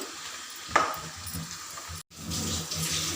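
Chicken pieces deep fry in oil with a steady, close sizzle. A scraping stir comes early, then a brief dropout, and the frying carries on strongly.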